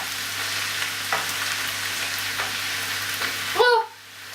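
Onions frying together with beef in a pan, a close, steady sizzle with a few stirring scrapes, ending in a short exclamation as the sizzle drops away.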